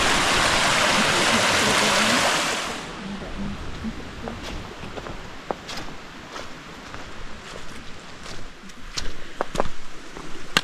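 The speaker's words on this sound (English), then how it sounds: "I bet there's water coming." Water flowing in a woodland stream, a steady broadband rush that is loud at first and then drops to a fainter, continuous wash with light knocks and rustles over it.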